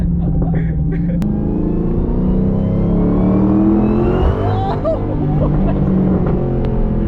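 A 2016 Dodge Challenger SRT Hellcat engine roars close and loud as it accelerates, its pitch climbing through gears with brief dips at the shifts; voices are heard in the background.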